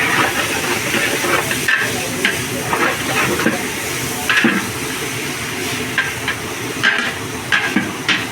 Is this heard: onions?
yes